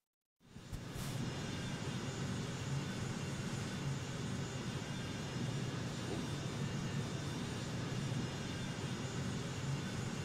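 A heavy truck engine in a video game drones steadily at low pitch, a continuous rumbling roar that starts abruptly and holds at an even level throughout.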